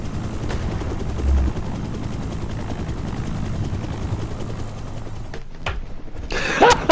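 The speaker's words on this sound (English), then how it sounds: "I'm escaping in the helicopter." Helicopter in the video game Predator: Hunting Grounds, a steady loud rotor drone that runs throughout, with a few sharp bursts near the end.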